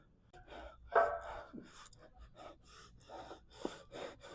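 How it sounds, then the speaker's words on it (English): A man breathes heavily after a leg workout, with quick gasping inhales and puffing exhales coming close and fairly quiet, one sharper gasp standing out. "I'm still breathing hard."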